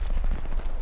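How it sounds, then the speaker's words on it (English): A grenade goes off in the World War II shooter Hell Let Loose as a short, heavy, rumbling boom that fills the whole brief moment. "I'm throwing a grenade on it."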